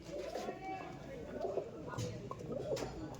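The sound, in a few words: Andhra dragon-head pigeons cooing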